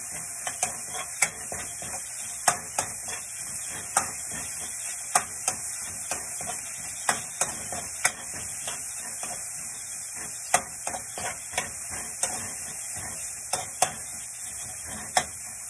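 Onion and garlic sauté in a pan with a steady, even sizzling hiss, punctuated by irregular light clicks and scrapes of stirring, fairly quiet and close.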